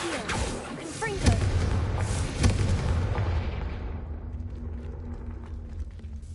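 Confringo fire-blast spell in Hogwarts Legacy: a loud booming explosion with crackling bursts, followed by a rumbling tail that fades out over several seconds.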